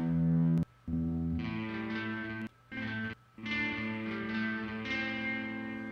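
An electric guitar plays through a Behringer DR600 digital reverb pedal set to modulation, giving sustained, shimmering chords with a wash of reverb. The notes are cut by a few brief silent gaps.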